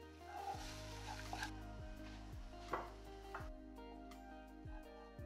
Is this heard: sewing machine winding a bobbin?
no